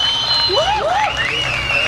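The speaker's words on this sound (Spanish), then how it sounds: "Un aplauso más para todos nosotros." A crowd at an outdoor 420 cannabis fair applauds steadily, with loud cheering and shouting voices rising and falling over the clapping.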